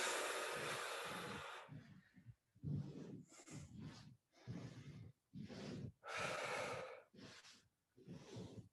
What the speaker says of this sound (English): let's breathe here